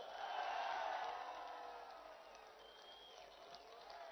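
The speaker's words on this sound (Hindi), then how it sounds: "सब हाथ उठाकर तालियों की गूंज पे बताइए" A large crowd at an Imran Khan Eid ul Fitr rally at Zaman Park applauds and cheers in a dense, distant roar that swells early and then slowly fades.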